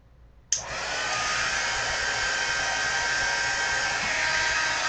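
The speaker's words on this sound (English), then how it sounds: "I'm going to turn the heat gun." A heat gun switches on with a sharp onset and then blows a steady, loud whooshing hiss, drying a layer on a handmade card at a crafting table.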